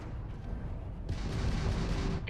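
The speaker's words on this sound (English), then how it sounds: "Press RT to fire Gatling" Gatling gun on a spaceship firing in Starfield space combat, a low rumbling stream of rapid shots that swells sharply louder partway through and keeps hammering steadily.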